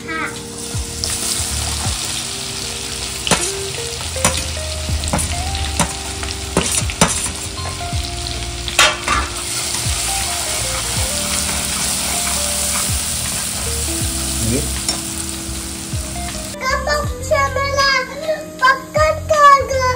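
Ground masala paste sizzling and frying in hot oil for mutton pulao, a steady loud crackle with stirring clatter throughout, a few tonal bits over it and brief chattering near the end.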